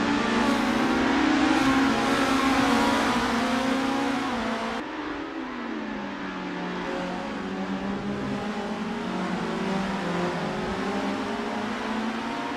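Race car engines at Pukekohe Park during a Formula championship round, a loud sustained roar with engine pitch shifting and falling as cars pass close by, no talk.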